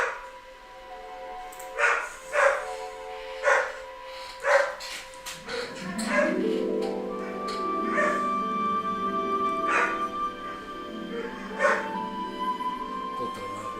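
A dog barks several times in close, sharp bursts, followed by whimpering, yipping tones and more intermittent barks, fairly near and clear.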